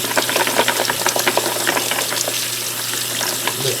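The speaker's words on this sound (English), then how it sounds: "Just rinse them off kind of like that" Carrots being rinsed under running water make a steady rushing splash with some irregular clatter from handling, over a faint low hum.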